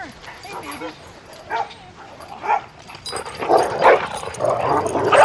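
Dogs barking and yipping while playing together in a ravine, a mix of sharp barks, yips and whimpers at close to moderate distance, growing busier and louder toward the end.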